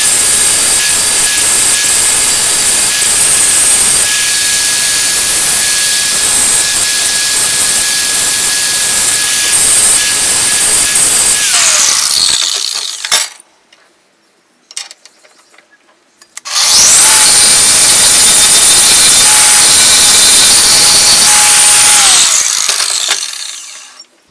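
A handheld power grinder shapes the MIG-welded, built-up point of a steel cant hook, running loud and steady for about eleven seconds, stopping briefly, then whining back up for another long pass.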